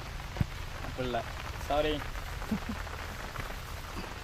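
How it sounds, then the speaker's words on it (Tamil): Steady rain pattering on a surface, a soft continuous hiss throughout, with people talking briefly over it and a couple of small knocks. "மழையும் அடிக்குது."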